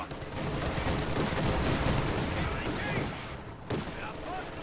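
Machine-gun and rifle fire rattle in a dense, continuous fusillade during a World War II strategy video game battle, with bursts of automatic fire layered under game voices and a short lull near the end.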